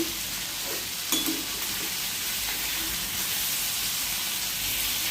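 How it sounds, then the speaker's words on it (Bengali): Rupchanda fish frying in a pan, giving a steady, close sizzling hiss with faint crackles and no one talking. "এই মাছটা ভাজা হচ্ছে"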